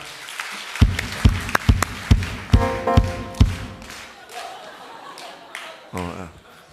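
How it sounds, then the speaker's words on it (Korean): Church members clap to welcome a newcomer, a series of loud, separate claps and thumps in an uneven rhythm that thin out, then a final burst near the end, with voices in the background. "우리 큰 박수로 환영하도록 하겠습니다."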